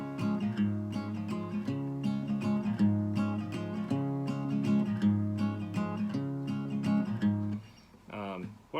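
Acoustic guitar strummed in a bass, down, up waltz rhythm for the cowboy folk song I Ride an Old Paint, steady chords repeating close and clear, then ringing off into a few faint plucked notes at the end.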